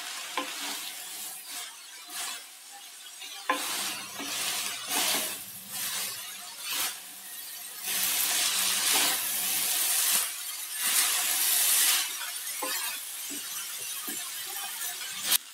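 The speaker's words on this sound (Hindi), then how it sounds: "गैस तेज कर लेंगे और इसे अच्छे से मिलाते जाएंगे।" Veg chow mein is stir-fried over a high gas flame: constant sizzling with repeated scraping and clattering of a utensil tossing noodles and vegetables in the pan, close and busy throughout.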